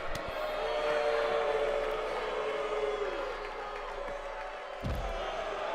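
Crowd noise in the WWE 2K19 wrestling video game: a steady, displeased arena murmur with a low rumble and a single thud near the end, no talk.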